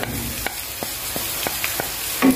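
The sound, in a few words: sautéing spice paste in hot oil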